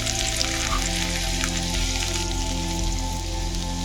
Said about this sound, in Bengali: আমি এবার রসুন কুচিগুলো দিয়ে নিচ্ছি।